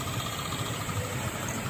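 A motorcycle engine idling close by, a steady low rumbling drone with an even, slightly pulsing texture throughout, no voices.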